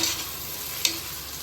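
Onions and green chilies sautéing in oil for Karnataka-style mushroom donne biryani, a close, even sizzle with one brief stirring scrape partway through.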